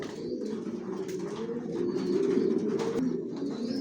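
Racer pigeons of a Johnson long-distance line coo steadily inside a loft, a dense, continuous low rumbling chorus of many birds close by, with no talk over it.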